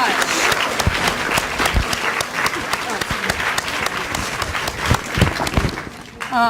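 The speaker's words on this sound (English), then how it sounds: "So let's just give them a round of applause." Audience applause fills a summit plenary hall, dense steady clapping from a large crowd that continues loudly and thins slightly near the end.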